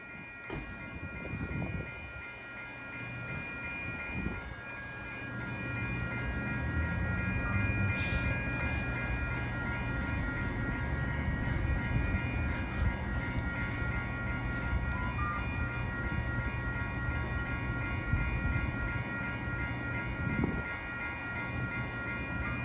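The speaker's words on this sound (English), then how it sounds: "there goes Caltrain 147 to 4th and King Street station in San Francisco" Caltrain 147, a northbound local bound for 4th and King in San Francisco, rolls steadily through Menlo Park station with a continuous loud rumble and rail noise for the whole stretch, no talking.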